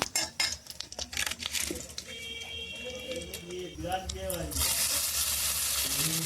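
Bay leaves and whole spices frying in oil in a pot in a village kitchen, metal clinks and utensil scrapes over a rising sizzle, with a voice talking throughout.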